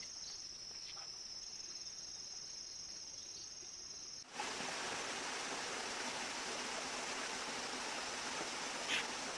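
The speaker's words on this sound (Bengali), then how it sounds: "এই তো ঝর্ণার শব্দ" Crickets chirp faintly, then a steady rushing roar of falling water abruptly takes over and continues evenly.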